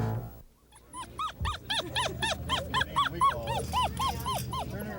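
Young hound puppies yip and bark in a fast, uneven chorus of high, squeaky calls close by. No voices are heard.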